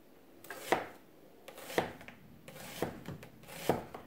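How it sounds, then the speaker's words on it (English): A knife slicing peppers and carrots on a cutting board for pickled spicy carrots: four or five crisp, fairly evenly spaced chops, close by and moderately loud, with soft rubbing between them and no speech. "I'm just gonna slice these so that you have strings to pick up and eat out of the pickled peppers and carrots."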